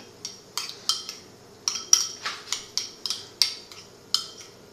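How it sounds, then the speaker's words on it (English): Cutlery clinks against a dish while sweet and sour sauce is mixed into a beet salad: a dozen crisp, evenly spaced scraping taps in a steady stirring rhythm, close and alone. "Now I'm going to put the sweet and sour sauce in here. And I'm going to mix it up just like that."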